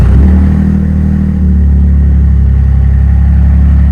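A truck engine with a full muffler delete fires up and rumbles loud and deep, a steady close-up roar that holds without pause.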